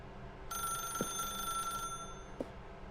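A telephone rings in the video game The Stanley Parable, one sustained bell-like ring under a low room hum, with a couple of faint clicks.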